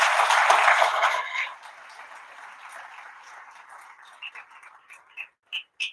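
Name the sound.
audience applause for the speakers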